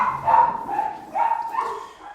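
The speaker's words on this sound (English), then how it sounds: "Rooney is barking right now at a squirrel out in the backyard" A dog named Rooney barks at a squirrel in the backyard, giving two or three close, mid-pitched bow-wow barks with a whining edge, spaced about a second apart while trying at the back door.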